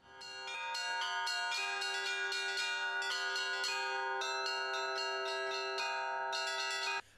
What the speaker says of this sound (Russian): Молебен завершился под веселый перезвон тутаевских колоколов